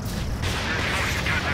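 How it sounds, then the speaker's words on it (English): A heavy boom of a missile hit explosion in Ace Combat 7 with a rumbling low roar and crackling debris, loud and close, part of continuous game action. "That's a confirmed direct hit by the missile."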